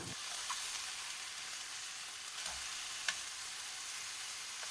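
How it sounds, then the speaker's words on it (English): German-style sausages pan-fry over medium-low heat in a small amount of oil, giving a faint, even sizzle with a couple of light scrapes or taps and no talking. "I'm just going to do a simple pan fry so I can get the basic flavor profile of our final product."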